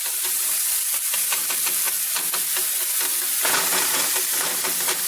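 Sweet yellow onion sizzling in a pan: a steady, close, bright frying hiss with crackling pops and occasional stirring scrapes, no voices.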